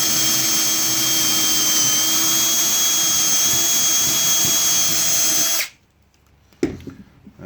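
A power drill whines loudly and steadily while driving a screw into wood during a joint-angle woodworking job, then cuts off abruptly, followed by a short clunk and faint handling noise.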